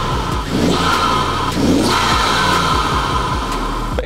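A car fitted with a Pipercross intake revs up repeatedly, engine note climbing and falling in several loud blips near the microphone, with a strong induction roar and no talking.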